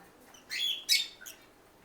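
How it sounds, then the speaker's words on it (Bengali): A pair of lovebirds gives a few short, high chirps close by, two or three quick calls in a row against a quiet background. "আর এটা হচ্ছে লাভবার্ডের পেয়ার"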